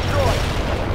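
Dense, continuous rumbling blasts from the strategy war game World in Conflict, with combat noise and unit radio chatter layered over the explosions.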